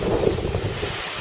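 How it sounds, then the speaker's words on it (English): Strong wind blasts a microphone on a long open beach, a dense, loud, continuous roar with surf blended underneath, close and unbroken. "And it's quite windy."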